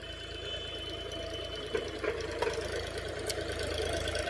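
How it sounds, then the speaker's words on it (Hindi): A tractor engine runs at a moderate distance as it drives off, a steady mid-pitched chugging hum with a few faint knocks and clicks, no voices over it. "भाई अब निकल गया ट्रैक्टर।"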